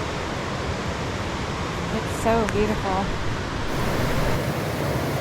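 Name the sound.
Hoh River flowing by a campsite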